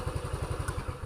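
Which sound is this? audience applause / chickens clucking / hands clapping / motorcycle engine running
motorcycle engine running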